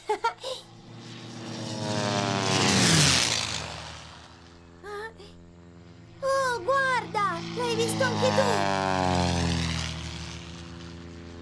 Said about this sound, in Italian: hai visto quell'aereo? L'ho visto! Hai sentito il rumore che faceva?